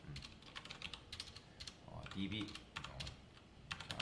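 Computer keyboard typing with a steady run of quick, close clicks and short bursts throughout, heard alone with no talking.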